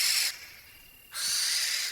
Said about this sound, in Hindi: नींद आई भी तो उल्लू की भद्दी आवाज से फिर से नींद टूट गई।